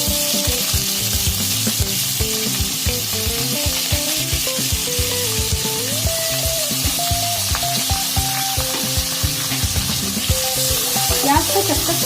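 Chopped medium onions fry with whole spices in hot oil, a loud, constant close sizzle with stirring scrapes and shifting tonal hum underneath, no talking.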